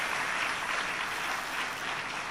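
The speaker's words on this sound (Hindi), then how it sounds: "भगवान के भक्त की क्या पहचान, हाथ से ताली, होठ से मुस्कान।" An audience claps hands together at a Hindu religious discourse, a dense, even burst of applause that holds steady and close for a couple of seconds with no talk over it.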